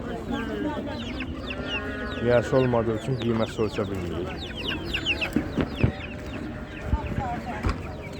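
Chickens cluck and chirp over busy market chatter, with people talking nearby and occasional knocks and bumps.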